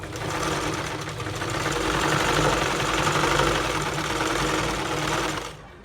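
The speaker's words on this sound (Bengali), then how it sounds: "তারপর আবার নিচের দিক থেকে সেলাইটা করব" A sewing machine stitches a seam on a salwar, running in one loud continuous burst of fast, even needle clatter and motor whir for about five seconds before slowing to a stop.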